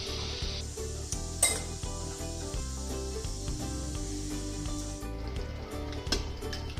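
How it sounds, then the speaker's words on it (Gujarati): Boiled potatoes go into a pan of pav bhaji gravy and are stirred in, with a steady sizzle under repeated metal spoon scrapes and clinks against the pan. "અને આ બાફેલા બટેકા છે એ નાખીશું. અને મિક્સ કરીશું."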